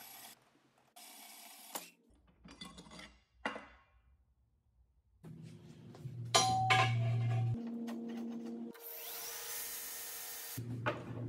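Metal being cut one wall at a time on a small piece clamped in a vise, for a cyclone dust collector leg, with bursts of harsh sawing and clinking interrupted by pauses, close and moderately loud.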